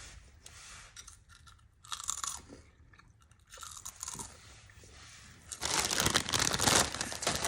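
Crunchy Australian snacks such as Burger Rings crackle loudly up close in repeated bites and chews, growing denser and louder toward the end.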